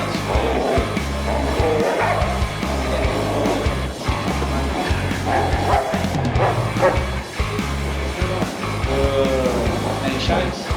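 A working dog in a K9 training session barks repeatedly at close range, with a few yips and whimpers mixed in, loud and sustained throughout.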